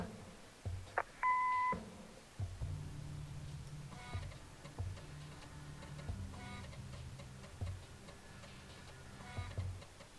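In the game Kathy Rain: Director's Cut, an answering machine gives one clear electronic beep before a message, followed by a steady ticking and clicking that continues quietly underneath.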